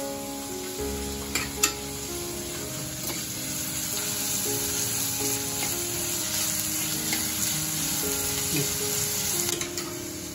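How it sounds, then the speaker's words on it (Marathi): Onion frying in a pan for a chicken dish makes a steady, quiet sizzle, with a few light clinks of a utensil near the start. "आणि कांदा व्यवस्थित भाजून झाला की आपण टोमॅटो टाकू."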